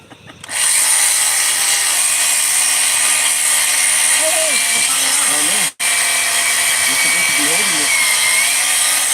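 A power grinder whines loudly and steadily as it cuts through the tough shell of an alligator gar, close and continuous, with people talking beneath the noise and a brief cutout midway.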